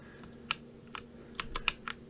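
Keys clack on an RK98 100-key mechanical keyboard, several crisp separate taps in an irregular rhythm, close and fairly quiet over a faint background hum.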